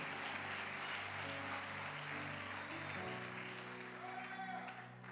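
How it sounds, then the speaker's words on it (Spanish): A church congregation applauding, a dense wash of clapping that runs throughout over sustained musical tones, tailing off slightly at the end. "Dale otro aplauso a Dios."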